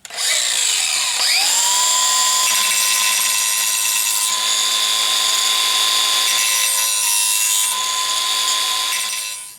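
An angle grinder fitted with a grind wheel shaping a 90-degree spine on a steel knife blade, a loud steady whine that spins up and holds for nearly ten seconds, alone without talk.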